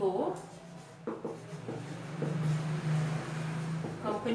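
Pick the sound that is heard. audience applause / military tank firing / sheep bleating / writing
writing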